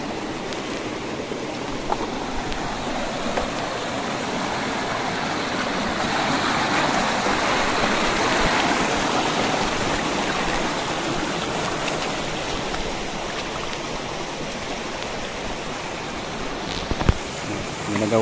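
Steady rushing water of a flowing river stream in the outdoors, continuous and fairly close, with a faint voice briefly audible beneath the broadband wash.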